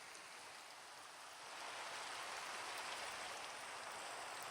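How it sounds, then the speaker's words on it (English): Steady outdoor rainfall makes a soft, even hiss at low level, swelling slightly partway through and continuing without any voices. "Shame it's raining."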